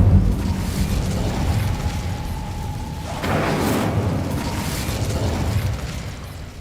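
In Hogwarts Legacy, an Incendio fire spell erupts with a sudden fiery burst and whooshing roar over steady game ambience, then trails off.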